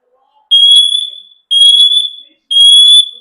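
SITERLINK hardwired smoke and carbon monoxide detector sounding its test alarm: three loud, shrill piercing beeps, each about a second long with short gaps, close by and alone.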